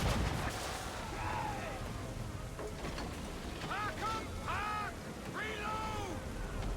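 Sailing-ship cannons fire in a naval battle in Assassin's Creed III, deep booming shots rolling under shouted crew orders, while gulls cry overhead near the end.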